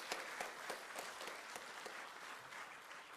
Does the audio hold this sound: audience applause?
yes